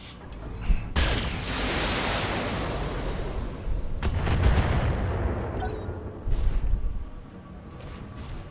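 Sustained weapon fire from mechs in the BattleTech video game, with dense rattling volleys and heavy blasts rolling on for several seconds, loud and close, pausing briefly before more bursts.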